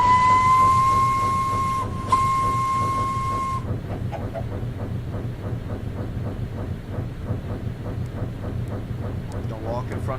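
A video game train rolls steadily on its rails with a low rumble and rhythmic clatter, opening with a sustained whistle tone before settling into continuous track noise, and a voice talks over it.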